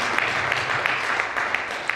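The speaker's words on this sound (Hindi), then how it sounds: "बिल्कुल ताली," Audience applause fills an award ceremony at a company's first-anniversary event, a steady, dense wash of many hands clapping at moderate volume throughout, with no break.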